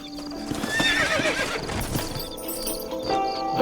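Horses in the Red Dead Redemption video game clip-clop and neigh loudly and nearby, a high, wavering whinny rising over the hoofbeats, with game ambience continuing around them.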